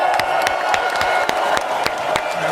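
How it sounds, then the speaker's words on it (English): Audience clapping and applause at the close of a talk show, a steady crowd patter with sharper individual claps standing out, close and continuous throughout. "Have some claps"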